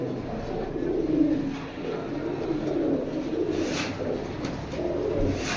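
A male long-distance racing pigeon coos softly in low, rolling phrases that repeat several times, close by, over a faint background hum.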